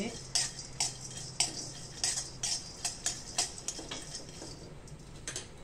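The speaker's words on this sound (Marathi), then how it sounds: "थोडे अगदी पाव चमचा तेलामध्ये मी मसाले भाजते" Spices roasting in about a quarter teaspoon of oil in a pan for a Satara-style chilli masala, heard as a steady run of sharp utensil clicks and scrapes against the metal with a low background hum and no talk.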